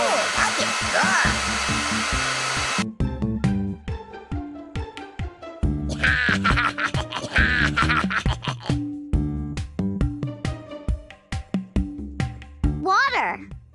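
A hair dryer whirs loudly and steadily for a few seconds in the Shimmer and Shine Magical Genie app game, then cuts off to bright game music and chimes as a voice speaks.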